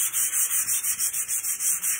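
Hand sanding of a round wooden pallet piece: a steady run of about nine rhythmic back-and-forth rubbing strokes, close and fairly loud, with a bright, hissy scratch and no talking.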